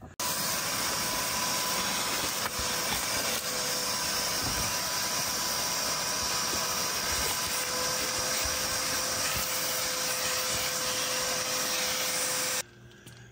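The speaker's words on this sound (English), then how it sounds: "now that I've got it vacuumed" A vacuum cleaner runs continuously inside an old vehicle's interior, a steady loud whine with rubbing and scraping as the nozzle works over surfaces, then cuts off near the end.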